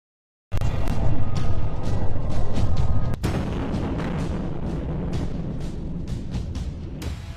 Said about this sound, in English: we've just had to come in here to take cover because there's been incoming mortar fire